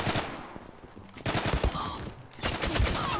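Gunfire in the online shooter Zula: rapid automatic bursts crackle in several close, loud volleys separated by short pauses, with faint game noise in between.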